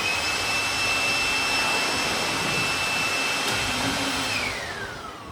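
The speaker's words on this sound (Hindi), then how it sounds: "इंजन स्टार्ट करेंगे ये आपको लगातार ऑन रखना" Small toy helicopter motor at an indoor science show runs as a steady, loud whine with a constant high tone and broad hiss, easing slightly toward the end.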